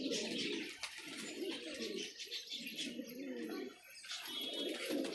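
Desi and Punjabi pigeons coo softly in low, rhythmic bursts, repeating several times in a quiet, close setting with a faint background hiss.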